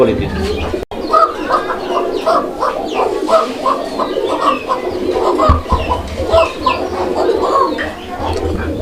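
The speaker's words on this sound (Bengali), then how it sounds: "কবুতরটা এতটাই ডাকে আর এতটা ডাকের কবুতর" A pair of Koka pigeons kept at a fancy-pigeon seller's place call continuously, with a dense busy chorus of coos and clucky bird calls around them.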